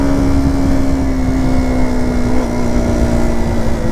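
KTM Duke motorcycle ridden on a monsoon ghat road, a loud steady engine hum with a sustained tone and wind rush, unbroken and close, with no voices.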